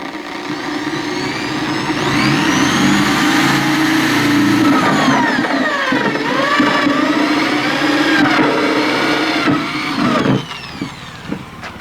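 Power drill boring a pilot hole, a loud whining motor that speeds up and slows down in sweeping pitch changes for several seconds before cutting out near the end.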